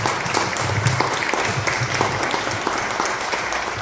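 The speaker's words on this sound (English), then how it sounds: "A round of applause for Erik" An audience at a fine arts club meeting in the Art Museum of New Bedford applauds a man named Erik, a full, even burst of many hands clapping that stays loud and steady, with no talk over it.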